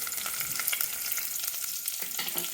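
Garlic sizzles steadily in hot oil in a pan, with a wooden spoon scraping and stirring through it in short strokes; close and continuous, no voices.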